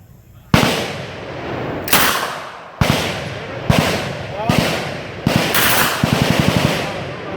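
Machine gun fire at targets during a Knob Creek jungle walk shoot comes in six sharp, loud bursts of rapid shots, separated by short pauses, with someone talking between them.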